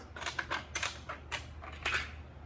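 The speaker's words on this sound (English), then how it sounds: "Use the scissors, cut them into 6 individual squares or rectangles" Scissors cut material into small squares, giving a quiet series of sharp, crisp snips in an uneven rhythm, about six cuts close to the microphone against a low background hum.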